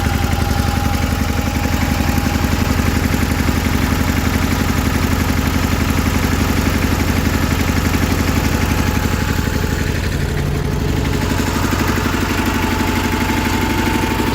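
A 1984 John Deere 316 garden tractor engine runs steadily at idle with a miss, a close, continuous loud drone with a rough, pulsing beat throughout and no talking.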